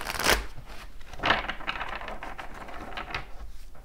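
Tarot cards being shuffled by hand, two brisk riffling bursts followed by softer continuous shuffling and card flicks, close and fairly loud with no talk.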